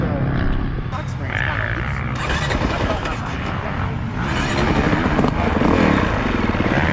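2021 Honda CRF450R dirt bike engine running nearby, a steady low rumble with rises in revs, under continuous talk throughout.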